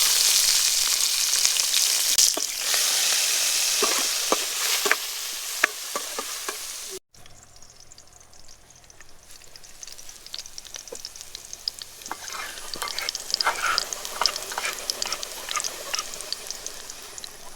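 Chilli, chopped onion and garlic sizzling in a pan after fried taro leaves come out: loud bright hiss at first, then a quieter ongoing crackle with sharp pops and stirring clicks.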